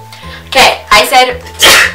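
A sharp, loud sneeze close to the microphone, surrounded by brief bits of nearby talking.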